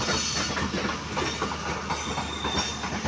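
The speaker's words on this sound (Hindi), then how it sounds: "अलेवन अप हज़ार express Malakwal junction railway station को छोड़ चुकी है पी एच ए ट्वेंटी तिरासी सत्रह के साथ" The Hazara Express passenger train, hauled by PHA-20 locomotive 8317, departs Malakwal Junction station, a loud close steady rumble with rhythmic clickety-clack of wheels over rail joints.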